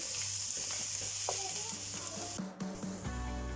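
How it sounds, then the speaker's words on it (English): Food frying in a pan is stirred around, with steady sizzling and scraping under a continuous hiss, close and fairly loud. "Give this a quick stir around."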